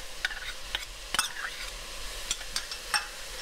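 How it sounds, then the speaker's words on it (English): Minced garlic and vegetables sizzle gently in a soup pot as they are stirred, with a steady low hiss broken by several sharp scraping clicks from the spoon. "I'm going to add the fresh minced garlic so it can all cook together"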